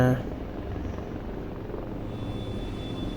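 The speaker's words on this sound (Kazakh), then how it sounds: "Давай, вертолеточка." A helicopter in the naval combat video game Modern Warships gives a steady, continuous rotor drone that stays even in loudness, with a brief louder onset at the start.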